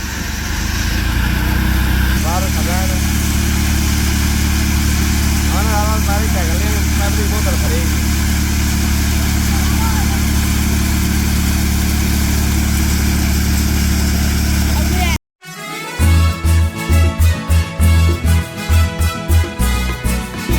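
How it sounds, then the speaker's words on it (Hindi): A tractor-driven crop cutter harvesting mustard runs steadily at a constant drone for a long stretch, then cuts briefly and restarts with rougher, pulsing revs. "चलो भाई कटर स्टार्ट हो चुका है।"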